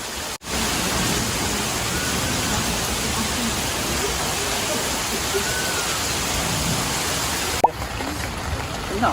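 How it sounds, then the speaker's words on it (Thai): Heavy rain pours down at a campsite beside a waterfall in a national park, a dense, loud, unbroken hiss that fills the whole stretch, with a brief bump near the end. "ฝนตกหนักเลยอ่ะ"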